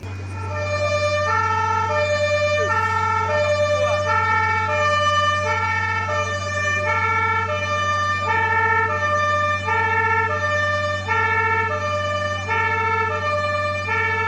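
Fire truck siren blaring during a demonstration of an airport fire vehicle, a loud, close, steady two-tone wail that alternates in a regular rhythm over a deep engine hum throughout.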